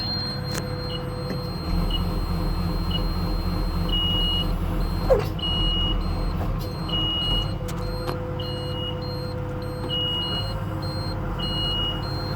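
Short electronic warning beeps repeat at a steady rhythm over a constant low engine rumble from an excavator fitted with an Engcon tiltrotator, warning that the attachment is not locked.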